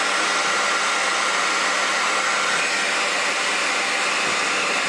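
Steady, loud blowing roar of a heat gun or hair dryer on a low setting, warming a plastic model kit part from top and bottom so it softens for molding; continuous and unbroken throughout with no talking.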